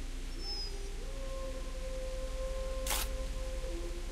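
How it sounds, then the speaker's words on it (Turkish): Dog howling in the game Krallık: a faint, drawn-out tonal howl rising and holding over a steady low hum, with a brief bright burst of noise near the end. "Köpek geldi."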